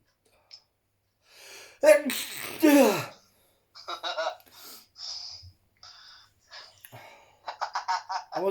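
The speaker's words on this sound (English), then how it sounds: "I'm gonna fucking sneeze." A sharp sneeze bursts out near the microphone, with gasping breaths and a snort around it, followed by scattered muttering and breathy sounds.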